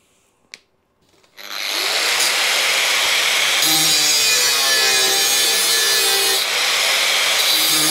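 A power saw rough-cuts a part for a Royal Enfield bobber build, starting after a faint tap and then grinding continuously and loudly through the material, close up with no voices.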